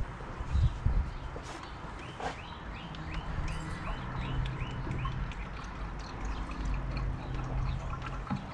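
Four quarts of full synthetic Napa motor oil glugging steadily from a freshly opened bottle into a car engine, a continuous gurgling pour with rhythmic bubbling, close up and with no voices.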